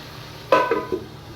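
Tomatoes land among vegetables in a hot pan with a quick sizzle, followed by two or three close scraping clinks of a stirring spoon over a low frying hiss.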